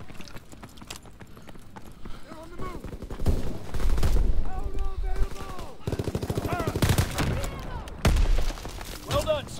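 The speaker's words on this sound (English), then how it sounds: "Bullets." Wartime gunfire in the hardcore mode of Call of Duty World War 2, with rapid repeated shots and heavy bursts mixed with game voices and other battle noise.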